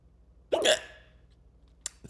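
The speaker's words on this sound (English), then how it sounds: "A couple hiccups." A single sharp close hiccup with a short voiced tail, followed by a fainter second one near the end, with no talking.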